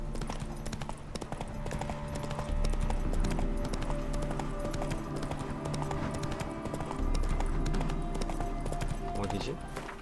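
In The Witcher 3 video game, a horse's hooves clip-clop in a steady walking rhythm, close and clear, with game sounds and a talking voice layered over the hoofbeats.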